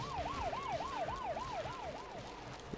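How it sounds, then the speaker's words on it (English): A police siren in the Bully video game on PS4 wails in a fast, regular up-and-down yelp, moderately close, amid game background noise. "Police sirens going off."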